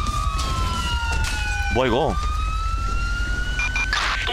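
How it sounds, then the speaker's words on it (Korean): A wailing ambulance siren in the police-mode game GTA V sweeps up and down over steady engine rumble and other siren tones, loud and close, while someone speaks over it briefly. "아니 앰뷸런스 어디서 나온 거지?"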